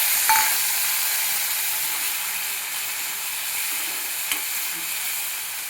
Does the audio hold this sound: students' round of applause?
no